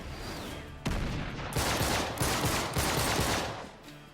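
Turret gunfire in Uncharted 3, four loud bursts of rapid automatic fire in quick succession after a short quiet lead-in, close and harsh.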